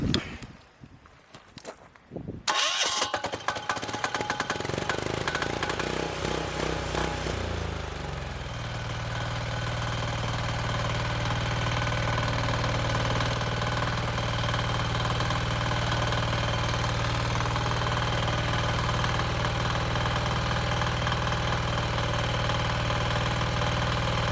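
Engine of a DIY mobile bandsaw mill on 30% vegetable oil cranks after a few seconds of clatter, catches, revs, then settles into a loud, steady idle, with a voice briefly speaking near the start.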